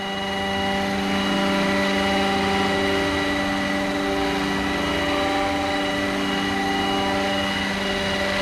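A Roban Bell 407 RC helicopter with a shimmying tail rotor runs continuously nearby, a steady whine of layered turbine-like tones over a low rotor rumble, loud and unbroken.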